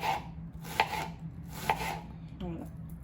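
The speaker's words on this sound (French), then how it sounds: "je vais le couper en lamelles comme ceci" A knife slicing food into strips for a lamb and prune tajine, three distinct cutting strokes against a board spaced evenly apart, close and fairly quiet with no talking.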